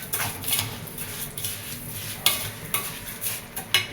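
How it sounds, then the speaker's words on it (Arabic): Vermicelli noodles frying in a pan in a home kitchen, with a broad steady sizzle broken by repeated scraping clinks of a spoon stirring against the pan, close and fairly loud. "بقى نحمر الشعريه بتاعتي"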